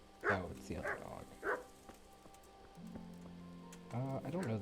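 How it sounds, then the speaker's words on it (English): A dog barks in the medieval video game Kingdom Come: Deliverance, giving a few short, sharp barks close by, followed by a lull and a voice speaking near the end. "What's the dog barking at? Oh, it's the other dog."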